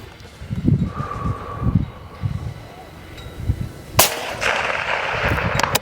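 A single sharp .308 rifle shot from a modern M40A5 bolt-action rifle cracks out loud and close after a few seconds of quiet outdoor rustling, its report ringing briefly afterward.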